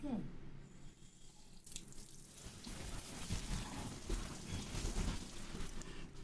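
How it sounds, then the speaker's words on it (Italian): Steady rain sound played through an Alexa smart speaker. It builds into a continuous, fairly close hiss of falling rain after a quieter start and holds evenly to the end. "Alexa, accendi pioggia."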